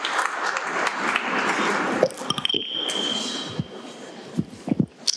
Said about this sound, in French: Applaudissons le Seigneur pour notre jeunesse